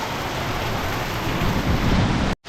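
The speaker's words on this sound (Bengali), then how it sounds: "দেখো মুষলধারে বৃষ্টি" A torrential downpour in near darkness, a dense, steady roar of rain pounding close by and loud, broken by a brief dropout just before the end.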